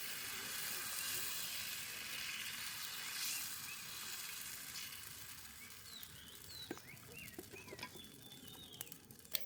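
A dosa fries on a hot pan with a soft, steady sizzle, faint and continuous, while birds chirp in the background and a few sharp clicks and taps break in toward the end.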